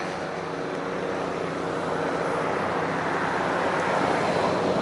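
A steady, broad engine roar from a news helicopter overhead, holding at a constant loud level throughout with no talking.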